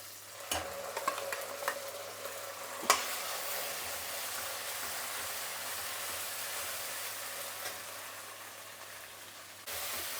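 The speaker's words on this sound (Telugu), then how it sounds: "మసాలా ఒక 3 నిమిషాలు బాగా వేయించుకోవాలి." Ground raw masala paste fries in a pan with a steady hissing sizzle, broken early on by a few sharp scrapes and knocks of the spatula, then settling into a constant frying sound.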